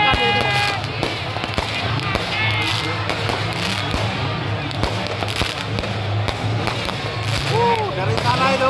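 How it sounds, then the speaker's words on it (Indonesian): Fireworks set off by football fans during a match viewing pop and crackle repeatedly at a moderate distance, under a constant crowd murmur with people talking and occasional whistles. "Tapi kembang api terlanjur dinyalakan ini."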